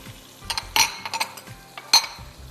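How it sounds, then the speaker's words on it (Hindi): Sliced mushrooms go into a pan of cooked chicken for a fettuccine Alfredo, giving a few soft clinks and scrapes of a utensil against the pan, two louder metallic knocks, and faint sizzling underneath. "जब चिकन हो जाए फिर इसमें हम मशरूम्स डालेंगे स्लाइस में कटे हुए"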